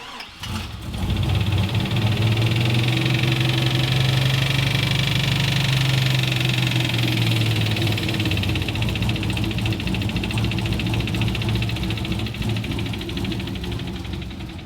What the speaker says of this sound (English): So the noise is definitely in the oil pan.